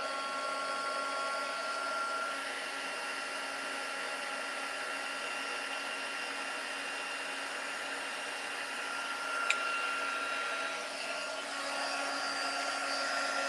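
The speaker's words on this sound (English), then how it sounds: "So I'm just going to get my heat tool and my amazing Stampin' Up!" An embossing heat gun blows continuously nearby, a steady breathy whir with a faint high whine that holds evenly for the whole stretch, broken only by one brief click.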